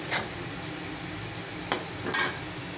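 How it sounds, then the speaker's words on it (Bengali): Onions sizzling in a pan while being fried to a reddish brown for a dried-fish curry, a steady low hiss broken by a few quick spatula scrapes and clinks, no voices. "এখন লাল লাল করে পেঁয়াজটাকে ভেজে নিব"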